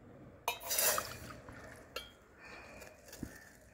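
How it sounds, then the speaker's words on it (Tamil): A glass of water is splashed briefly into a pot, followed by a few light metallic clinks and quiet handling sounds. "ஒரு கிளாஸு தண்ணி ஊற்றினா போதும்."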